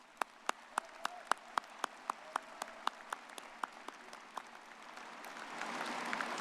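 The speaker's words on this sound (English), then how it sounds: "let's give these students a great round of applause" Audience applause for graduating students at a May commencement ceremony: a few sharp, evenly spaced claps ring out one after another, then a softer, fuller wash of clapping swells near the end.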